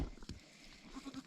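Goats out in the snow after leaving their house, playing and butting each other, give a few short bleats against a quiet outdoor background.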